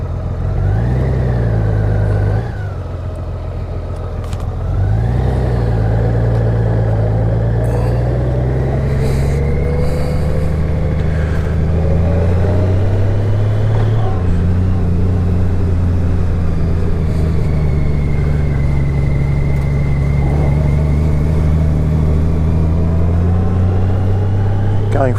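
A 2018 Honda Goldwing GL1800 DCT motorcycle riding at night, its engine a steady loud drone that drops briefly, then climbs and shifts pitch through the gears as the bike accelerates and cruises, with wind rush throughout.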